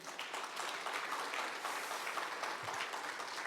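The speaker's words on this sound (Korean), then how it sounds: "여러분 격려의 박수 한번 부탁드리겠습니다." A crowd applauds steadily at a medical center opening ceremony, dense clapping at an even level throughout with no pauses.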